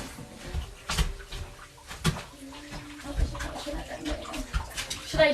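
Couch cushions are stomped in bathtub water, giving uneven splashing and sloshing bursts with soft thuds, close and moderately loud, and faint background voices and household noises.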